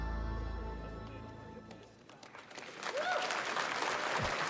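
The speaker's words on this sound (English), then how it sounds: "The crowd goes wild." A crowd applauds and cheers at the live Summer Game Fest keynote, the clapping swelling up loudly after a brief musical lull and continuing as a dense, distant roar.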